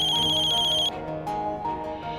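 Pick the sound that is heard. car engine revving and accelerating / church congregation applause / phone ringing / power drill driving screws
phone ringing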